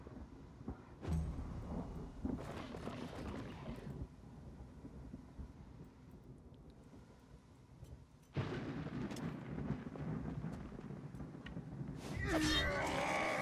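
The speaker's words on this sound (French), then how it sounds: "dans la nuit, avec le bruit du tonnerre, de la pluie." Rolling thunder and rain in a nighttime scene of the video game Wartales, with low rumbling bursts separated by quieter stretches of steady rain noise, fairly faint overall.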